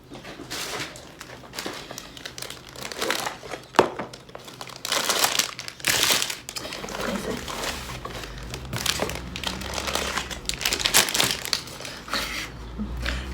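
Parcel package being opened by hand, with loud crinkling and crushing of plastic packaging in irregular bursts, sharp rustles and tearing close to the microphone, no talking.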